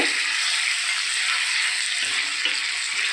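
Chhana (cottage cheese) with a little soy sauce being stir-fried in a pan, a steady loud sizzle throughout with faint stirring scrapes near the end.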